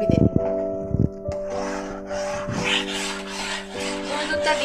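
A spoon scrapes and rubs rhythmically through a mango kalakand mixture with powdered milk in a pan, a close, repeated rasping stroke over a steady tonal hum in the background.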